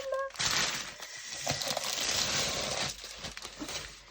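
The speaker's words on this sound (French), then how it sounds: "Et donc on va ouvrir cette toile." A delivered painting canvas being unwrapped, with loud, close crinkling and tearing of packaging that runs almost continuously, pausing briefly once.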